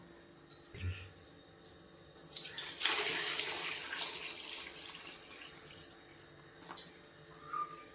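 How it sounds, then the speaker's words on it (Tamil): Drumstick (moringa) greens are swished and rinsed in a basin of water, giving a burst of splashing and sloshing in the middle with lighter drips and trickles before and after, close and fairly quiet, with no talk. "இப்போ நம்ம கீரையை கழுவி எடுத்துக்கலாம்."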